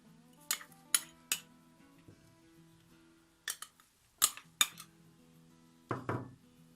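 A spoon stirs golgappa filling in a bowl, making sparse, sharp metallic clinks and knocks in small clusters separated by quiet gaps.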